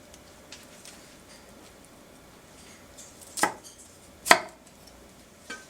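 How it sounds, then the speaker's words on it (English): A knife trims the stem of a cauliflower steak in the kitchen, giving two crisp cutting knocks close by, separated by a short pause and set against quiet background hiss. "You could always trim a little bit of the stem at the bottom"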